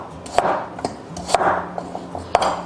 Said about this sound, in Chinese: 这个大蒜我们切对半就可以了